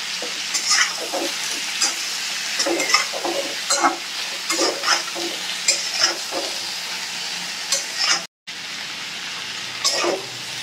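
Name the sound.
stirring and frying data stems in a pan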